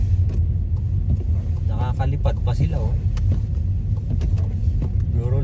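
Cars rumble past on a snowy road in Canada, a continuous low traffic drone under close talking, with geese flying overhead.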